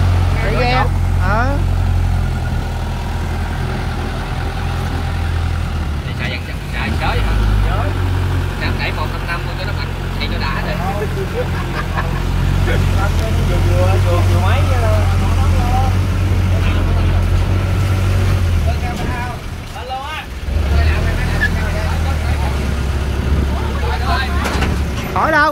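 A Kubota ZT plus diesel engine, made in Thailand, runs steadily on a boat, its low continuous drone loud throughout with people talking over it.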